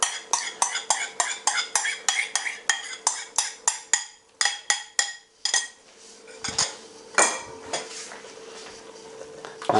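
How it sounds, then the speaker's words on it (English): A spoon stirs coconut cream into salmon curry sauce in a pan, giving a quick run of rhythmic scraping clinks against the metal, then slower, looser stirring with a faint simmer underneath. "And we'll just give that a stir in."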